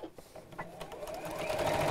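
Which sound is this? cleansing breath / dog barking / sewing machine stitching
sewing machine stitching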